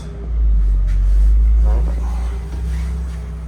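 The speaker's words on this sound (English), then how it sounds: "I don't know if I'll be able to edit that truck noise out." A truck passing outside a parked Latitude Meridian 30 motorhome gives a loud, steady low engine rumble that swells and then fades over a few seconds, with no talk.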